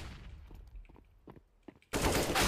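Counter-Strike: Global Offensive gunfire on the Overpass map, shot through a smoke grenade: a few scattered sharp clicks and taps, then a sudden loud, sustained burst of close shooting.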